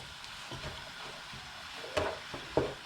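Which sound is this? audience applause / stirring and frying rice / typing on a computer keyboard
stirring and frying rice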